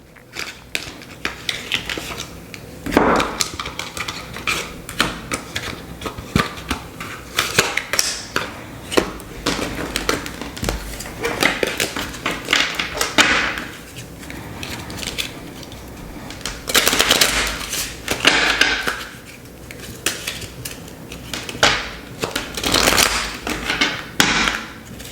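Romance Angels oracle cards are shuffled and drawn in a run of soft, irregular papery riffles, taps and slaps, fairly close and moderately loud, with no voices.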